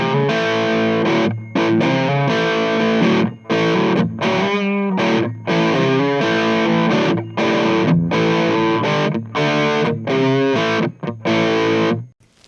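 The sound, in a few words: electric guitar through amp boosted by Nowhere Inn boost pedal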